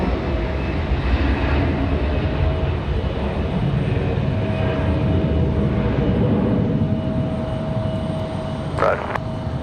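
A Cessna Citation jet with a possible right landing gear problem passes over Raleigh-Durham International Airport, a steady, loud broadband roar holding throughout with a faint tonal whine, a brief sharper burst near the end.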